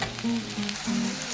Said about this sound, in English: Now I'm going to put the onions in. Give it a stir